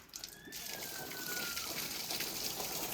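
Water gushes from a household supply pipe after days without a supply, a steady close rush and splash that runs without a break, with a brief high whine early on and faint voices in the background.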